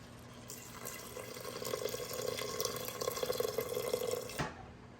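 Water poured from a glass into an Instant Pot of rice for prawn biryani, a soft splashing trickle that swells and then stops abruptly near the end.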